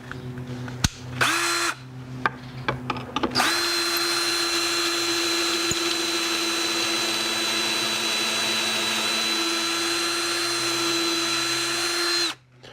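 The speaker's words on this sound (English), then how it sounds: "I dropped my speed of my drill down a little bit" A power drill runs at a reduced speed, working on a Christmas train board; after a few short starts and stops it whines steadily and close up for about nine seconds before cutting off.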